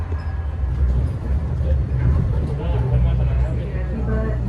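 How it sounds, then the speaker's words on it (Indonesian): An automated airport terminal train running: a steady low rumble and rolling noise inside the car, with people talking over it throughout. "Ini sebenarnya udah automation kan, sudah otomatis keretanya, tapi tetap harus ada petugas yang jagain"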